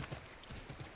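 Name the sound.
horse hooves in Assassin's Creed III video game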